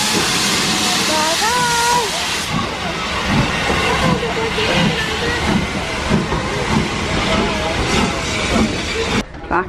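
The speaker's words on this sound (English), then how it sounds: "Back on the train." Thomas-themed train ride with steam hiss and rolling carriage noise, loud and continuous, while people chat and a voice rises and falls over it.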